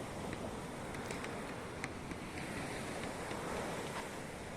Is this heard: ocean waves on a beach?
yes